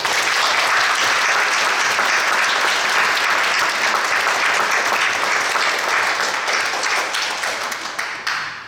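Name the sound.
audience applause for the Corbett Foundation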